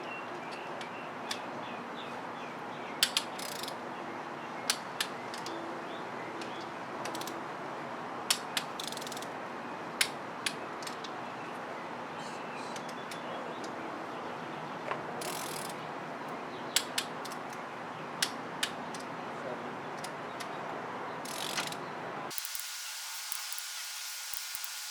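Sharp clicks from a torque wrench tightening ARP head studs on a Honda D16 cylinder head, with scattered single and paired clicks over a steady background hum. A brief burst of different noise comes at the end.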